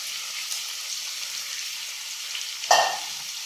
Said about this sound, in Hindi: तेज़ आंच पर हमने इनकी भुनाई करनी, बस 1 मिनट तक भुनाई करनी